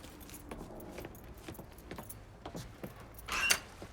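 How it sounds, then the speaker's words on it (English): Truck keys jangling as they are picked up in Mafia III, a quiet rhythmic metallic clinking with faint engine rumble beneath and a brighter rattle near the end. "pick up the keys"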